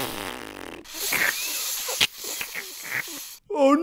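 Fart noises from a Marvel video game, a few short raspy bursts and a sharp spike over game audio with speech-like sound in the background.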